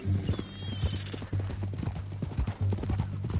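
Horse hooves in Red Dead Redemption 2, a steady clip-clop of walking hoofbeats at moderate distance, fairly quiet, with a faint whinny and no clear talk.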